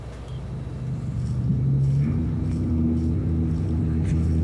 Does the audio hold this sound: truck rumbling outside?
yes